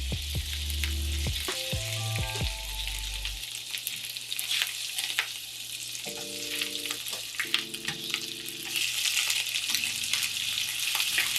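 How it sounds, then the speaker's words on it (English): Spot prawns hit a pan of hot oil and butter and fry with a loud, continuous crackling sizzle, close up and steady throughout, with a few brief tonal hums beneath and no talking. "A little bit of oil, a little bit of butter. The prawns are going in."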